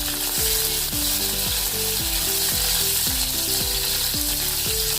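Cumin seeds, chopped onion and bay leaf sizzle steadily in hot oil in a pan for aloo pulao, a loud continuous fry with repeated scraping stirs of a spoon against the pan.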